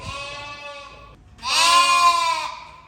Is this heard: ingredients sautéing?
no